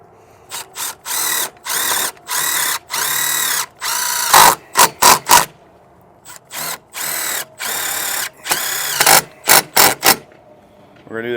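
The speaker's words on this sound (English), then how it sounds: "you're going to take these self-tappers here, and then you're going to go through this bracket into this rail" A power drill drives self-tapping screws through an awning bracket into a rail on a 2022 Grand Design Imagine travel trailer, in repeated short whirring bursts separated by brief pauses, close and loud.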